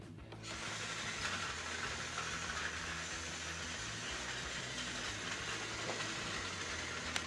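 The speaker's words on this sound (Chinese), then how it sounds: "我们的托马斯开着他的小火车过来啦" A toy Thomas train running, giving a steady mechanical rumbling hum with a faint rattle that keeps going evenly for several seconds, moderately quiet and alone.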